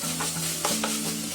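Chopped tomatoes tipped into a pan of vegetables frying for a simple salad rice, giving a steady close sizzle with a soft stirring scrape and brief louder bursts as they land, with no voices.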